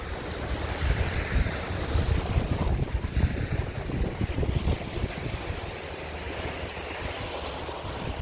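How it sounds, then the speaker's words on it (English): Waves wash onto the shore at Woodbine Beach in a steady, broad rushing roar, mixed with wind buffeting the microphone, with no talk. "I didn't realize how big and beautiful this beach is."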